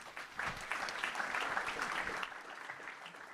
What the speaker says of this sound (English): We'll conclude maybe with a round of applause